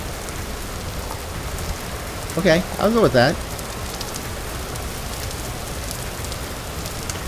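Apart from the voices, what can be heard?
rain pouring in a video game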